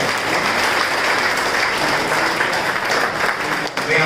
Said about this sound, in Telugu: అలాగే అమర శ్రీనివాస్ గారు, ఉప్పల వెంకటనాథ్ సార్ ప్లీజ్ చప్పట్లు మాను మోగాలి.